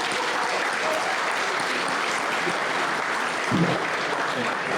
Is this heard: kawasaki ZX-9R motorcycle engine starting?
no